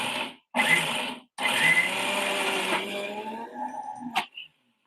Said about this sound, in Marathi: मिक्सराक लावतोय वाटप आपला.